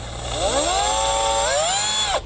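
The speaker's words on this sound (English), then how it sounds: "I've decided to drill out the remaining part of the screw that's in the radiator housing" A power drill whines steadily, drilling out a broken screw in a plastic Skoda Fabia radiator housing, its pitch climbing and shifting as it bites, close and loud for a couple of seconds before stopping.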